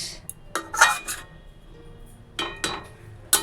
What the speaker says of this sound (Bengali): এখন শুধু বাসন মাজার পালা